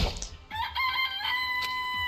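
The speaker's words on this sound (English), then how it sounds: "It's a chicken." A chicken in a Danganronpa video game clucks and crows with bright, sustained harmonic calls over about two seconds, loud and alone with no talking.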